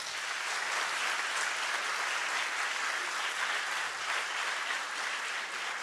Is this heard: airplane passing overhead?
no